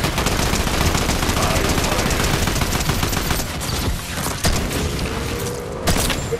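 Video game gunfire crackles in dense, rapid bursts of shots, loud and continuous for about four seconds, then thinning to a few separate bangs near the end.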